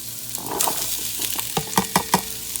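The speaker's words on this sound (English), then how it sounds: "Let this go ahead and start sauteing down." Carrots sautéing in browned butter in a pan for chicken noodle soup, a soft sizzle broken by several sharp spoon clinks and stirs against the pan, close and clear.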